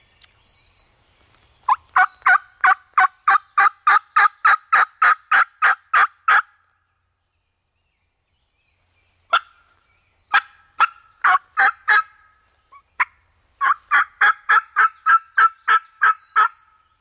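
Wild turkey longbeards gobble repeatedly in outdoor woods, bursts of loud rapid gobbling calls, some overlapping, with a pause mid-way before another long run of gobbles, no talk.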